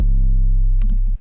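A deep, sustained 808 bass note from the Heavyweight sample in the Orchid pack booms and holds for about a second before cutting off, with a few faint ticks near the end.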